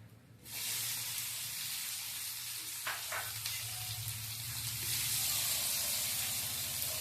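Onions and fenugreek powder dropped into hot oil in a pan burst into a loud, close sizzle that starts abruptly and holds steady, growing brighter toward the end with a few faint clinks; no talking.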